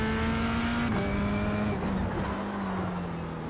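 Racing car engine in iRacing's F3 at Jerez, a steady loud drone that shifts pitch as the driver brakes too hard into a corner and briefly locks the wheels, with a faint tyre scrub under the note.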